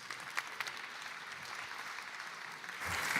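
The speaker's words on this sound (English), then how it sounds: "Please give them a big round of applause." Audience applause for a hackathon finalist at closing ceremonies in Lisbon, soft, somewhat distant scattered clapping that swells slightly at the end.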